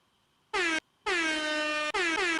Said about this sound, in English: he gets the air horn